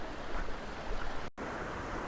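Gentle creek flowing through bush scrub near a waterfall, a steady broad wash of water close by, with a brief dropout in the middle.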